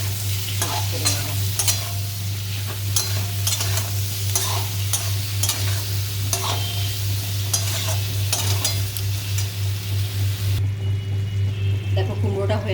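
Spoon scraping and stirring diced pumpkin with cumin and salt in a pan, rhythmic clacks over a soft sizzle and a steady low electrical hum, the stirring stopping just before the end.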